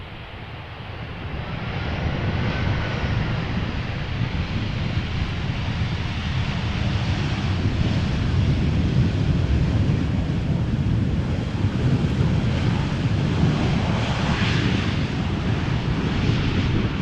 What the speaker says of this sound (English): an Embraer 175 arriving from Darlington, or Teesside as it is now being indicated on flight radar these days